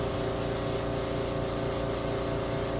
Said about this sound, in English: I use an airbrush. This is an old Pache airbrush.